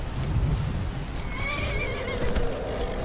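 A horse neighs in the video game Skyrim, a clear, rising and falling whinny lasting about a second over a steady rumbling ambient bed, with faint hoof clatter.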